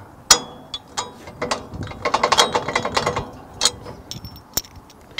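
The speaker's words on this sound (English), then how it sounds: "take out your 2 bolts here" Bolts being removed from the lock box of an Arrowquip Q-Catch cattle head gate and squeeze, heard as a ratcheting wrench clicking in short bursts with scattered metallic clanks, close and moderately loud, with no talk.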